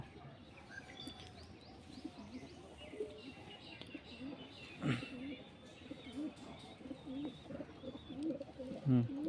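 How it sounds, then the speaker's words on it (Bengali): Cooing from local Giribaz pigeons, soft repeated low coos and chirps close by amid a busy background, with a few louder calls near the end. "এই একটা কবুতর দেশি গিরিবাজের মধ্যে দেখুন দারুণ একটা কবুতর"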